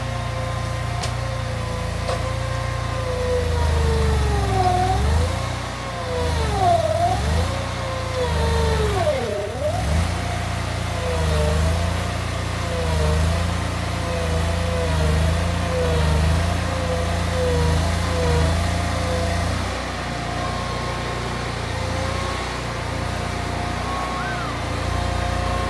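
A Bad Boy Terrain compact loader lifting a load on a set of forks, its engine droning steadily at mid pitch with revving swells and dips, close and continuous with no talk.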